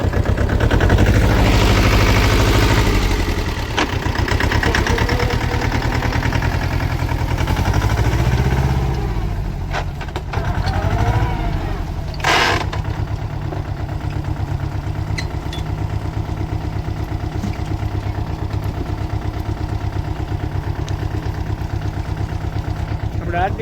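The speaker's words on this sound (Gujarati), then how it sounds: "તમે ટ્રેક્ટરનો અવાજ સાંભળો." A farm tractor engine runs close by in a field, a steady mid-pitched chugging idle that is loud at first and then settles into a continuous drone, with a few clanks and voices in the background.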